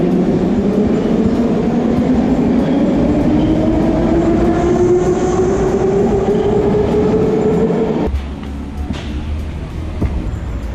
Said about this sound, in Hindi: यहाँ की मेट्रो शोर बहुत करती है